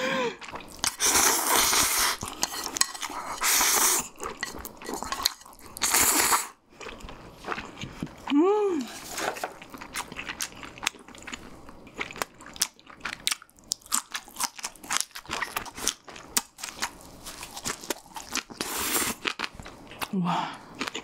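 Mukbang eating of homemade Cheetos cheese sticks and spicy chicken: loud close crunchy bites and chewing in bursts, with brief vocal exclamations in between.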